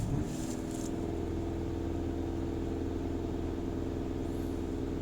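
A Skoda Octavia vRS engine, fitted with a diesel particulate filter, held at raised revs with a steady, loud drone. It stays constant for about five seconds after a brief rise at the start, with no talk.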